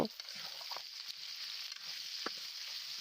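Potatoes fry in hot oil with salt and turmeric, giving a steady close sizzle broken by a few soft knocks and scrapes as they are stirred in the pan.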